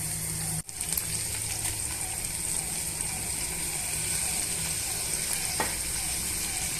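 Finely chopped ripe tomato pieces dropped into frying masala for an ivy gourd gravy, setting off a steady loud sizzle that goes on throughout, with a brief dip near the start.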